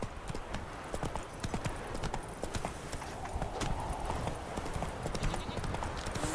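Horse hooves clip-clopping at a brisk, steady trot in the game The Witcher 3, a close, continuous rhythmic patter of hoof strikes with faint background ambience.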